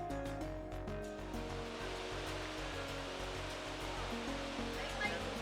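Elk Falls, a 25-metre-high waterfall in old-growth forest, roars as a dense, constant broadband rush of falling water, loud and close with no break.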